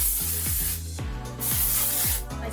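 UV protection spray misted into hair in several short hissing bursts, each a few tenths of a second long, close and fairly loud with a soft rustle between sprays.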